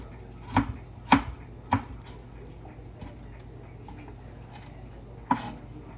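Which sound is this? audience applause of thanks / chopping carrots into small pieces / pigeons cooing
chopping carrots into small pieces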